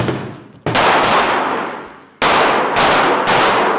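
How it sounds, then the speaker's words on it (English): Pistol rounds fired at steel targets during a shoot-on-the-move drill while stepping backward, three loud close cracks with metallic ringing and the later two quick in succession. "to immediately start moving back and shoot 3 more rounds while he's in motion stepping back"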